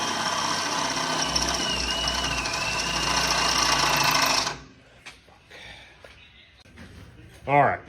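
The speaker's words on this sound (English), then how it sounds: "All right, I'm drilling out all of the pilot holes here so I can complete the frame shortening." Power drill boring pilot holes into a steel truck frame during frame shortening, a steady loud whine for several seconds that stops abruptly, followed by quieter shop sounds and a short voice.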